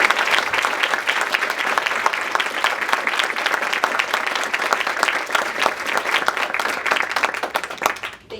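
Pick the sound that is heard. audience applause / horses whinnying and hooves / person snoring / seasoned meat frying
audience applause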